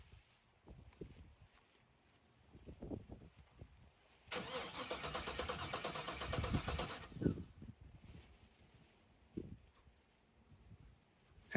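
Starter on a 1985 Chevy C10 with an LS swap cranks steadily for about three seconds without the engine catching, close and fairly loud, surrounded by quieter shuffling and handling noises, no fuel pressure.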